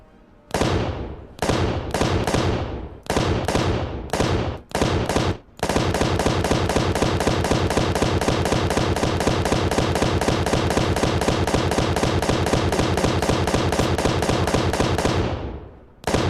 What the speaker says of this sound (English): a couple decent shots on like this Interceptor, and this thing's crippled